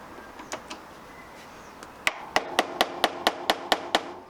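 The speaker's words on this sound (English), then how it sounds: "Hammer away, my friend." Hammer blows on a part being removed from a budget Cafe Scrambler motorcycle build: a few faint taps, then a steady run of about nine sharp, evenly spaced metallic strikes, close and distinct.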